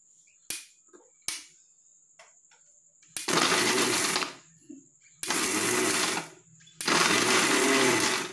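A mixer grinder blends coffee with an ice cube: two sharp clicks and a tap, then three loud whirring bursts of about one to one and a half seconds each, separated by short pauses.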